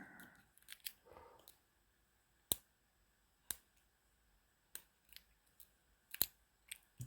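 Faint, sparse metallic clicks and ticks from single pin picking a Master padlock, scattered irregularly across a quiet background.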